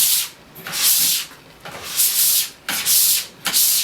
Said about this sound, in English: I will scrape a little bit like this, and I'll take it back over like this